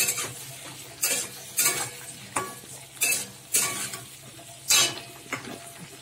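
Onion and capsicum stir-fried in hot oil for a chili egg dish, with a steady sizzle under repeated scraping and clinking strokes of a spatula against the pan, close and fairly quiet, no talk.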